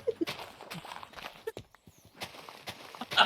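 Horse hooves clopping in the Minecraft video game, a few light irregular steps under background game sounds, with a brief quiet gap midway and a louder burst at the end.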